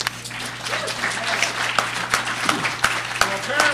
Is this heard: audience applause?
yes